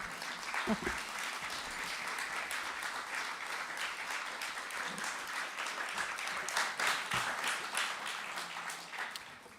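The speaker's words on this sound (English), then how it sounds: "Nice applause." An audience at a literary evening applauds, a dense, sustained clatter of many hands at moderate distance that continues steadily for several seconds, with faint voices mixed in.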